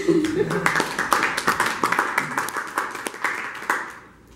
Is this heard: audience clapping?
yes